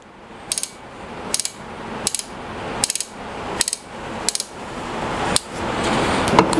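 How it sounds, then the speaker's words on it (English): Incra LS-Standard router fence on an Incra router table giving crisp ratcheting clicks as its micro-adjustment knob turns, seven short close clicks at a steady pace over a faint steady hiss. "Each click is a thousandth of an inch."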